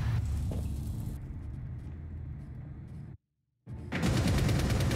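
Dense, rapid gunfire in the tactical shooter Rainbow Six Siege, loud and continuous with rumbling low end, cutting out briefly before a heavier burst resumes.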